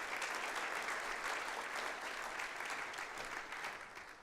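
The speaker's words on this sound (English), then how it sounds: "all of you gave a big round of applause to yourselves" Audience applause for themselves at the GC18 conference, a steady wash of clapping from a large crowd that holds throughout and thins slightly at the end.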